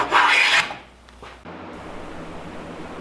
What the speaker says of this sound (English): I use 150 grit sandpaper on a palm sander.